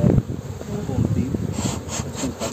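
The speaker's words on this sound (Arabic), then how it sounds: "النحل سليم ما شاء الله" Honeybees at a hive during an inspection in late March, a steady close buzz that hums through the whole moment, with light scraping and handling noises over it and no speech.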